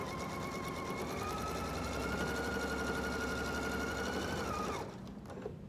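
A sewing machine runs steadily for nearly five seconds, stitching along the edge of a market bag, then stops abruptly, leaving quieter room noise.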